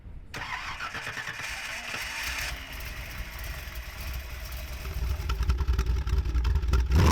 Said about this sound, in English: another was just getting ready to fire up its 383 cubic inch small block Chevy.